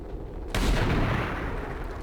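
A single loud gunshot in the video game XCOM 2 cracks out after a short quiet lead-in, then rolls into a long, rumbling, slowly fading tail with no voices.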